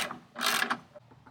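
Ratchet cranking to tighten the basket mount of a 21-gallon water tank in an off-road installation, a short burst of rapid metallic clicks, close and fairly quiet, followed by a couple of faint ticks.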